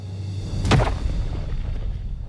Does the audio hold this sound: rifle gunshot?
yes